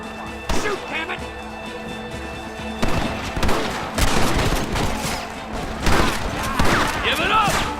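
Shots ring out in a Red Dead Redemption gunfight, a scattered exchange of loud cracks spread across the scene. Shouted dialogue and background score play over them.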